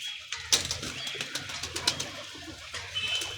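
Pigeons coo softly in a loft, low murmuring calls mixed with scattered sharp clicks and light wing flutters, fairly quiet throughout.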